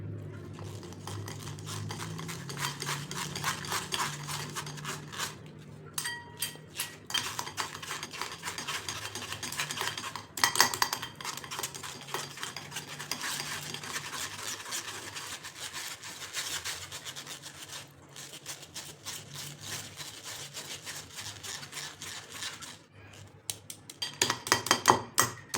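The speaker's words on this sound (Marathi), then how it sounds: "असं गाळणीवर फेटून घ्यायचे." Hung curd (chakka) whisked against a strainer makes a busy, continuous rubbing and scraping, dense rapid strokes with brief pauses, close and fairly quiet.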